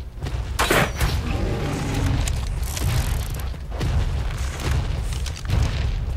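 Heavy booming gunfire in the survival video game ARK during a fight with a high-level Rex, several deep blasts rolling over a continuous low rumble of action.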